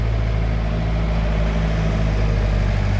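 Tractor engine running at an oilseed cake plant, a steady loud low drone with constant hum and no pauses.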